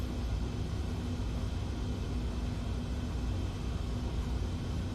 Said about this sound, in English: Definitely loud over the engines.